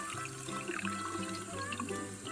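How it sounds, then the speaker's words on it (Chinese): Tap water runs steadily to rinse small doll clothes in a toy washing machine, a soft continuous splashing stream with faint gurgling, close by and fairly quiet. "我们可以用水龙头的水直接冲洗，也可以舀一勺水往里面冲"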